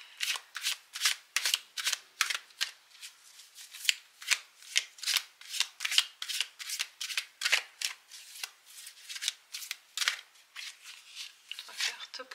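Oracle cards for a tarot reading are riffled and shuffled in a fast, repeated run of crisp papery flicks, close and fairly quiet, with a voice speaking alongside.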